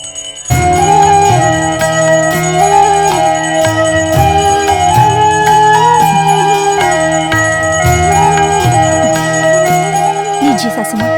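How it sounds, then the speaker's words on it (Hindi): A hand bell rung during a prayer offering at a home puja, sounding as a steady, continuous ringing with bright metallic overtones throughout, mixed with background voices and household bustle. "वो घंटी मुझे दो।"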